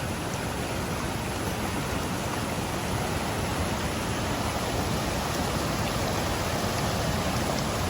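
A waterfall in Palakkad district roars as a steady, dense rush of falling water, loud and unbroken from start to end with no voices.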